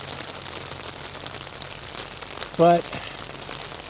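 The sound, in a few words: rain falling on a tarp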